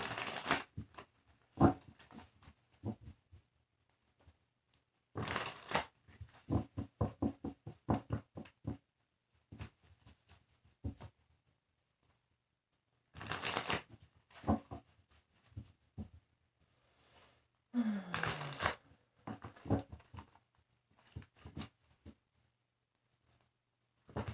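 Tarot cards are shuffled up close in quiet bursts of rapid riffling and flicking patter, separated by silent pauses, with no talk.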